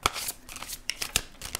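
Tarot cards are shuffled by hand in quick, crisp riffles, soft and close, with several short papery bursts arriving in an uneven rhythm.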